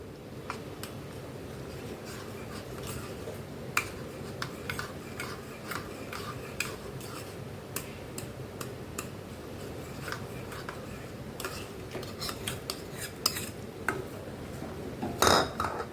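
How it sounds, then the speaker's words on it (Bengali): Milk mixture with milk powder being stirred for malai kulfi, a spoon clinking and scraping steadily against a metal pot in a quiet kitchen, with soft repeated taps throughout and a louder clatter at the end. "ভালো করে গুলিয়ে আমি দিয়ে দিচ্ছি।"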